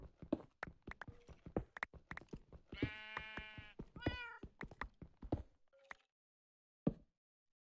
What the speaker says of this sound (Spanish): Sí que hay un gato, sí.